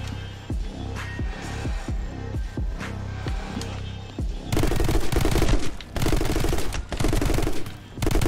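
Gunfire in the action game My Friend Pedro: a steady rhythm of single shots over a continuous backing, then dense, loud rapid-fire bursts that keep going to the end.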